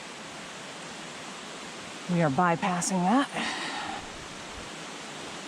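Water flows steadily at a small river crossing on the North Twin Trail, a soft continuous rush of low water running through the whole stretch while someone speaks briefly over it.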